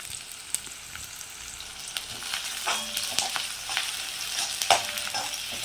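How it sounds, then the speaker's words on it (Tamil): Small onions sizzle steadily in hot oil for prawn thokku, a close, bright crackling fry with faint scrapes and clicks as they are stirred in the pan. "நல்லா வெங்காயம் பொரியட்டும்"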